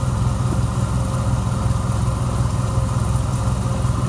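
A pressure washer engine runs steadily, with its pump building pressure into the hose. The low, even mechanical drone sits close to the microphone and holds at the same level throughout, with no talk.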